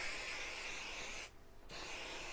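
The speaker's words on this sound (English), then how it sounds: "so move the machine out of the way and just spray on the back" A steady basting spray aerosol hisses continuously onto the back of fabric for sewing, pausing briefly for a moment before resuming, close and fairly quiet.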